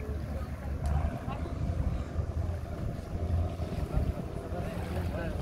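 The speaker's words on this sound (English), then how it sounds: "Here you will go aboard a longtail boat or speedboat." A longtail boat or speedboat cruising on open water off the Phi Phi islands in Thailand, with a steady engine rumble mixed with wind buffeting and sea wash throughout.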